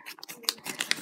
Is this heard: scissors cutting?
yes